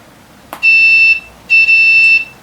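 Two long, piercing electronic emergency alarm beeps from an LED stair lighting control box sound close and loud, each about half a second, separated by a short gap after a brief click.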